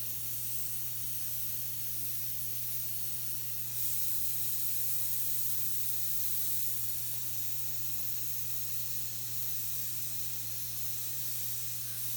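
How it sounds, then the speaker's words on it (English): An airbrush sprays paint in a continuous, even hiss that stays steady and fairly soft, with a low hum beneath it. "So we're just using the airbrush rather than thin coats of oil paint."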